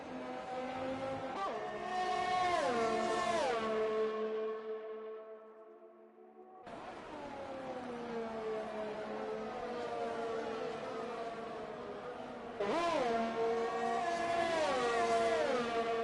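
Simulated Formula 1 cars racing at the Italian Grand Prix in a video game, engines whining in sustained high-pitched tones that sweep up and down through gear changes, a brief lull mid-way before loud engine roar resumes.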